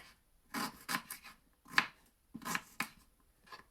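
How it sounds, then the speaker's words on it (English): Several crisp knife strokes chop through peeled ginger on a board, coming in short irregular bursts with brief pauses between them. "Next, I'm gonna be cutting my ginger."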